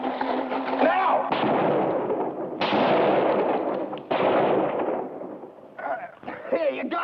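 Gunshots in a 1973 drama, several sharp loud reports at irregular intervals with reverberant tails, people speaking between them.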